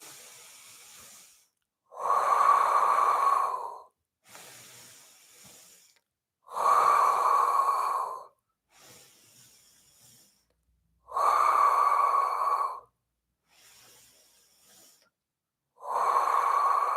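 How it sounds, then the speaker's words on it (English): Slow, rhythmic breathing during a Pilates core exercise: four strong, hissing exhales about two seconds long, alternating with softer inhales, close and clear with no talking. "breathe in for 2, breathe out for 2"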